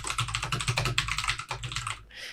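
Rapid clicky keystrokes on a computer keyboard while Python code is typed, a close, continuous burst of typing that trails off at the end.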